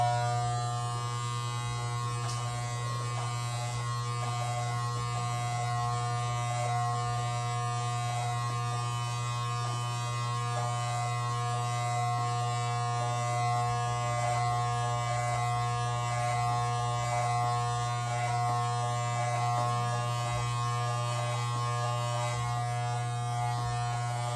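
Electric hair clippers fitted with a 2-guard trim the sides of a head, a steady close buzzing drone with a strong constant hum that runs unbroken, without any talk.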